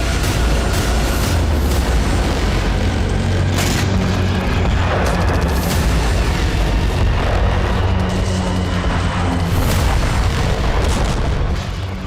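Explosions from Israeli strikes in Syria: loud, dense booming rumble with repeated heavy blasts and crackling bursts layered over continuous low roar, no voices.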